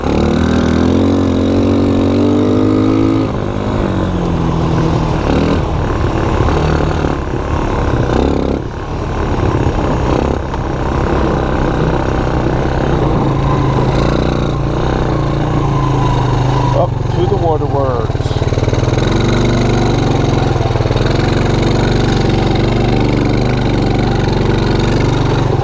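A Suzuki LT160 quarter-size ATV engine runs steadily throughout, a loud close droning putter with a brief revving swell, while someone talks over it.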